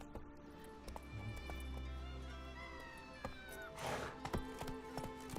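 Roach the horse gallops in The Witcher 3, hooves clip-clopping in a steady run under game music, with a short neigh-like burst near the end.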